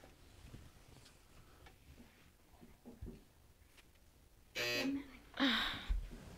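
A quiz buzzer at a school Battle of the Books competition, two loud electronic bursts a moment apart, standing out over a quiet room with scattered small noises.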